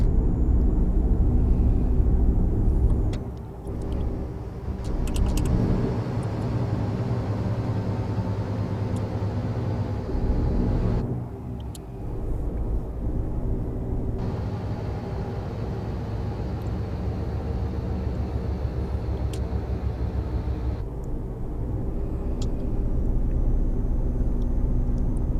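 A Volvo FH16 Classic truck in Euro Truck Simulator 2, hauling a heavy 51-tonne load, drones with a steady, loud low engine rumble and road noise, shifting in pitch as it builds speed.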